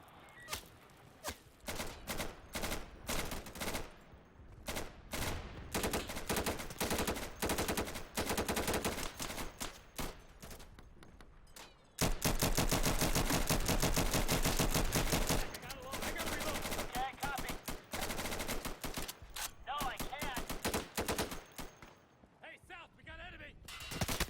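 Video game gunfire, long loud bursts of rapid automatic shots alternating with single shots and brief pauses, continuous and dense, with voices talking over parts of it.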